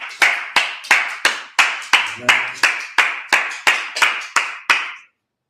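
Congregation at a Sabbath service clapping in unison, about fifteen sharp, evenly spaced claps in a steady rhythm, close and loud, then stopping abruptly.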